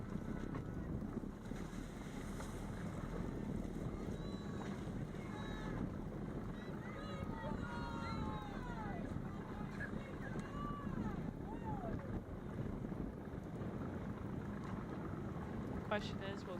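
Strong wind roars steadily across the water at a college women's team racing sailing championship, with constant gusting buffeting the microphone, distant faint voices and calls carrying over it.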